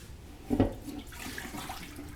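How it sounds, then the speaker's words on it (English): A brief splash of water poured into a pot, followed by a soft running trickle. "We're going to add some cold water to it."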